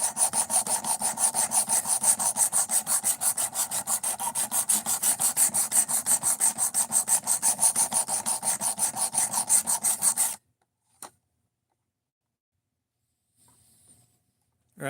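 A knife bevel is sharpened on a stone with fast, even back-and-forth rasping strokes, a steady close scratching rhythm that stops abruptly, leaving near silence with a couple of small knocks.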